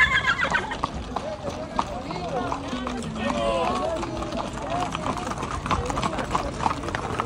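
Horses ridden by cowboys in Sonora clip-clop along with steady hoofbeats, and an occasional whinny breaks through. People talk throughout over the procession.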